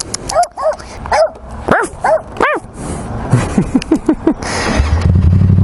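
A small chihuahua yaps in quick, high-pitched barks, close by, then whimpers and yips in a rapid run of short cries.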